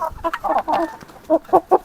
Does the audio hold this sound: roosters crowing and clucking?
yes